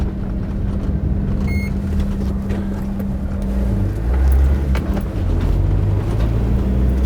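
A vehicle drives along with a steady, loud, low engine drone and road rumble, the pitch shifting slightly midway, with a brief electronic tone near the start.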